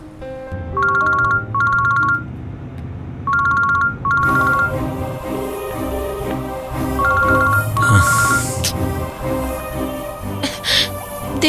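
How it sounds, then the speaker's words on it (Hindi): A telephone ringtone in a dubbed movie scene, repeating short electronic tone bursts in pairs over background score, continuing as music and scene sounds swell. "उसे फोन कर रही हूँ,"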